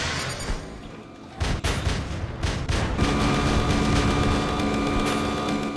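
Machine gun fire in the mech video game War Robots, a loud rumbling burst of gunfire and booms that starts sharply after a quieter opening and then holds as a steady roar.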